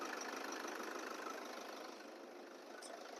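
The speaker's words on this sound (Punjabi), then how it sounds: "ਗੱਡੀ ਜਿਹੜੀ ਸਟਾਰਟ ਹੋ ਚੁੱਕੀ ਹੈ ਬਾਹਰ ਸੁਣ ਸਕਦੇ ਤੁਸੀਂ ਇੱਕ ਵਾਰੀ ਇੰਜਣ ਦੀ" A Toyota Fortuner's engine idling just after starting, a steady, fairly quiet mechanical hum with a faint even ticking texture, heard from outside the vehicle with no talk over it.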